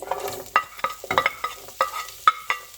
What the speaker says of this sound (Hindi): इसमें 1 मीडियम साइज का अनियन जो कि मैंने स्लाइस में काट लिया ये डालेंगे